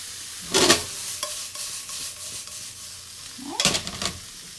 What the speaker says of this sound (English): while I keep on frying those vegetables